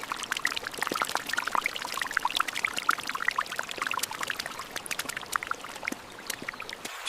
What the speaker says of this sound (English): the constant sound of the creek below